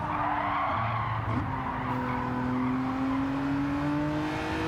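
Gr.3 race cars on worn soft tires squeal and skid around Watkins Glen in Gran Turismo 7, a steady rising tire howl over layered engine drone, loud and continuous throughout with no talk.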